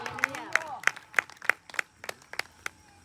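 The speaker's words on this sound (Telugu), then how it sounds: "కొట్టు చప్పట్లు." A church congregation applauds during a sermon with a run of sharp, evenly spaced claps, about ten distinct beats in a steady rhythm, close and moderately loud, with a voice briefly heard at the start.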